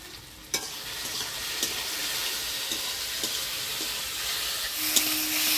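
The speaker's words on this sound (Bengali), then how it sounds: "কচুর লতিটা ফোড়নের তেলে ভাজা ভাজা করে নিলাম" Taro stolons fry in tempered oil in a village kitchen, giving a steady close sizzle and hiss throughout, broken by a few sharp scraping clicks of stirring.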